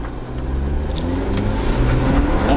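A car fitted with a Wind Booster throttle controller set to race mode accelerates hard, its engine roaring loud and close in a steady, rising rush that lasts the whole stretch with no talk.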